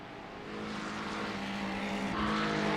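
Race cars roaring through the S-curves in a racing video game, a steady loud engine drone that swells as the pack passes, with faint tire squeal.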